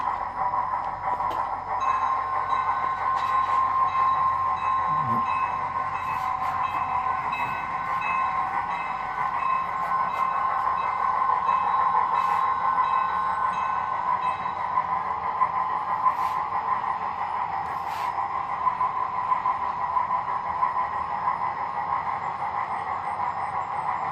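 A model railroad train runs steadily on a two-level home layout, a continuous humming whir of the motor and wheels on track, close and even throughout with faint clicks.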